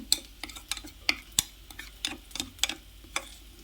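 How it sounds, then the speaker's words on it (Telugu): A utensil clicks and taps against a bowl while beating eggs mixed with chilli powder, salt and a few drops of lemon juice, a quick irregular series of sharp close ticks with no talking. "వీటిని బాగా కలుపుకోనండి"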